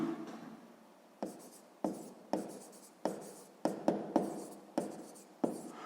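Pen or pencil writing out a sixth-grade math solution on paper, steady scratching broken into about ten separate strokes and short bursts, close and fairly quiet, with no talking.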